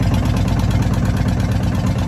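A boat engine idles steadily with a low, even rumble and faint knocking, continuous throughout with no speech.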